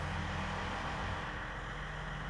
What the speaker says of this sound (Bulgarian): По този начин регулираме скоростта, чрез оборот си на дизеловия двигател